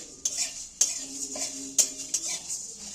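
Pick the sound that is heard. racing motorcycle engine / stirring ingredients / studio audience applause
stirring ingredients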